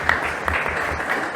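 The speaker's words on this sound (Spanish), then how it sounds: "a quien les pido un gran aplauso" Audience applause at a museum presentation at Casa del Deán, a steady wash of clapping that fills the short moment without any voices.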